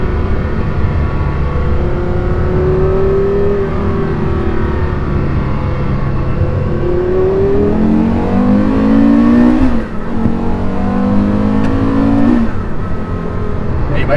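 A Porsche Carrera GT engine pulls hard and loud up through the gears, each rising howl cut by a shift, while people talk inside the car over the sustained roar.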